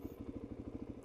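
A Honda Grom motorcycle engine idles steadily with a fast, even low-pitched putter, heard alone at moderate, fairly quiet volume.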